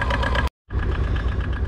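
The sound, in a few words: Aixam Coupé Emotion microcar engine running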